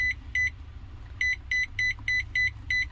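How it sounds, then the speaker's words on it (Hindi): Beeps from a microwave oven's PCB as its feather-touch buttons are pressed during a repair test: eight short, bright electronic tones, mostly in pairs, over a low steady hum, with no talking. "जैसे कि आप बीप का साउंड सुन रहे हैं, इसमें हमारी जो फेदर टच है प्रॉपर वर्क कर रहा है।"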